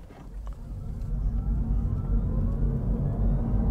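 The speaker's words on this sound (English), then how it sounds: "Flooring it from a stop there without brake torquing it." A 2023 Mini Cooper SE electric car accelerates hard from a standstill, floored slightly uphill without brake torquing, giving a steady low rumble of tire and road noise that builds and holds, with a faint rising whine, close by.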